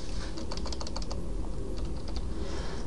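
Typing on a computer keyboard while coding in Java, a quick burst of close key clicks with short pauses, over a steady background hiss.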